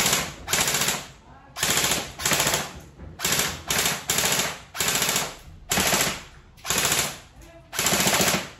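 A toy rifle fires on full auto in repeated bursts, each about half a second long with short gaps between. The rapid mechanical rattle is close and loud, and no voice is heard.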